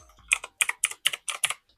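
Crisp clicky keys on a Widow V4 Pro mechanical gaming keyboard, about seven sharp close presses tapped in quick succession, each a bright double click.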